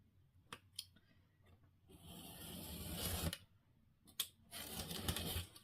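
Paper being cut with scissors for a scrapbook album page, in two loud bursts of crisp snipping and slicing with a few sharp clicks between, close up and alone.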